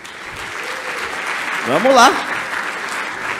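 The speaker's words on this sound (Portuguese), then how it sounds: "salva de palmas aqui" Audience applause during a Ruby/Rails tech talk, a broad, moderate clatter of hands carrying on under a voice speaking Portuguese close to the microphone.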